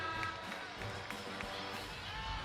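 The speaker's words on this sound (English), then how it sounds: "And their fans, they're always into it, but they're into it now." Wisconsin fans cheering and roaring in a packed arena during a timeout at the NCAA women's volleyball championship against Stanford, a steady dense crowd noise that runs throughout.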